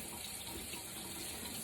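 Tap water runs steadily from a faucet into a bathroom sink, warming up before shaving; a continuous close, even hiss with no talking.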